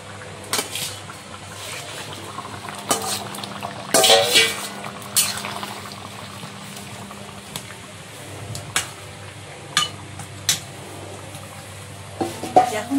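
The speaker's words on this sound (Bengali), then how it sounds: "এইবারে মাখনের মতো মাছগুলো সব দিয়ে দেবো।" River bashpata fish go into a hot frying pan, a loud clatter and splash followed by steady sizzling with occasional utensil knocks and stirring.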